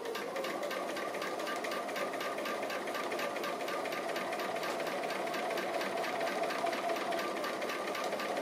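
A sewing machine does free motion straight stitching on appliqué, a fast steady mechanical whirr and clatter that runs unbroken and fairly close, with no talking.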